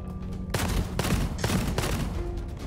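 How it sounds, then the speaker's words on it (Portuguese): Gunfire in the game Gunfire Reborn, aimed at the player, comes as rapid loud bursts of shots in quick succession, close and dominant over the mix, with brief pauses between volleys. "Tem alguém atirando em mim"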